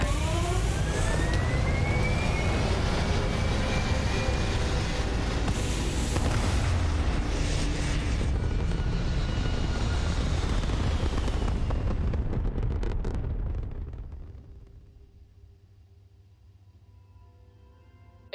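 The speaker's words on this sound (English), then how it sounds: "Thrusters firing." Rocket thrusters roaring in a steady, loud, broadband rumble for about thirteen seconds, then cutting off and fading into a quiet hum.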